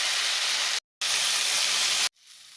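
Pirandai (adamant creeper) sautéing in a pan with tamarind and salt gives a loud, steady broadband sizzle in two sustained bursts, separated by a brief silence, then settling into a quieter, softer hiss.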